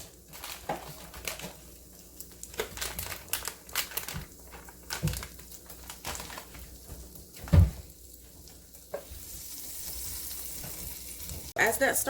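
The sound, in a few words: butter melting and sizzling in a pan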